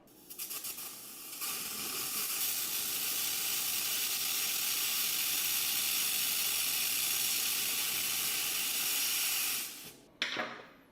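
An XLaserLab X1 Pro laser head cutting 10 gauge stainless steel gives a steady, loud hissing rush of gas and spray that runs unbroken for about eight seconds before cutting off abruptly.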